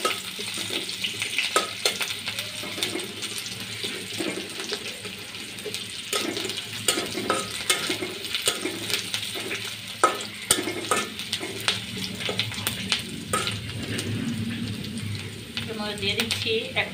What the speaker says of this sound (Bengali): এটাকে ভালোভাবে ভেজে দিতে হবে,